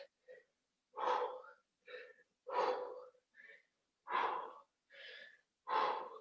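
Heavy rhythmic breathing during a HIIT abdominal exercise: a series of sharp exhales and gasping inhales at an even pace, close to the microphone and fairly quiet, with no speech.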